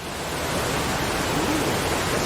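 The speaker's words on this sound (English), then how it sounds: "I might be able to find some dripping waterfall sounds" A waterfall sound effect plays as a dense, steady rush of falling water, loud and unbroken throughout.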